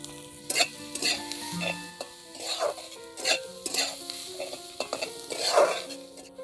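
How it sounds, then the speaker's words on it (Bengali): Chopped onions fry in oil with salt and turmeric in a pan for chicken bhuna khichuri, a close bubbling sizzle punctuated by frequent spatula scrapes and clinks, with faint background music. "পেঁয়াজটা আমি বাদামি রং করে ভেজে নেব।"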